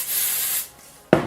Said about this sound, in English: just take your hairspray and then just give it a little spray.